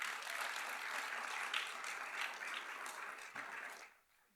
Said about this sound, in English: let's give a round of applause to all of our presenters